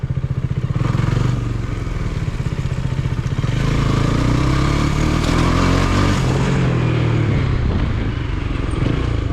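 A KTM Duke 250 motorcycle engine running close by, a loud continuous throbbing drone whose pitch rises and falls through the middle as the throttle is worked, with no break from start to finish.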